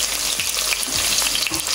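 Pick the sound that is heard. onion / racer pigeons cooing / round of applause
onion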